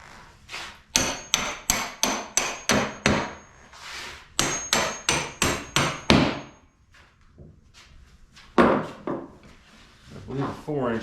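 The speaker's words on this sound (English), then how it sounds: "Let's encourage it with a hammer." A hammer driving bolts while a bench vise is installed in a workshop, a loud, evenly paced series of metallic blows in two runs of about six strikes each, followed by a few scattered knocks and brief talk.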